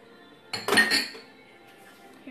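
A spoon clinks and scrapes against a glass bowl while coconut oil body scrub is mixed, a short cluster of close, bright taps followed by quiet.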